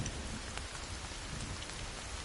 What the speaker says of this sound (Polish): O, chyba pada deszcz